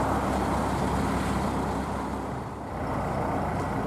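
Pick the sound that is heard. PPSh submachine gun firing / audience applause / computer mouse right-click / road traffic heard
road traffic heard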